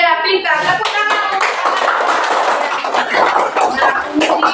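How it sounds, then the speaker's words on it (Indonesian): Children in a classroom clap their hands together, a busy burst of many small hands applauding at close range, with young voices chattering and an adult's voice over the clapping. "Tepuk tangan"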